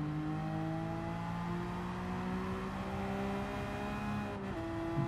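A Porsche race car engine in Gran Turismo 7 drones at a steady, sustained pitch that shifts slightly, loud and continuous with no talking.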